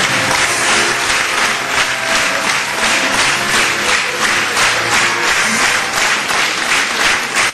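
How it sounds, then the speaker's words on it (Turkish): Theatre audience at a State Theatres play in Çaycuma gives a standing ovation, a loud, full, continuous wall of clapping with a faint rhythmic pulse running through it from start to finish. "Oyun sonunda izleyiciler devlet tiyatrosu oyuncularını ayakta alkışladı"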